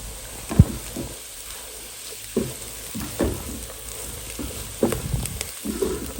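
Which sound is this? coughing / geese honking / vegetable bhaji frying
vegetable bhaji frying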